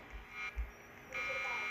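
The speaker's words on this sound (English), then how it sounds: "There's an alarm going on." Electronic alarm sounding in a Roblox break-in story game, a steady high-pitched tone that cuts in and out and returns louder, with low thumps underneath and no talking.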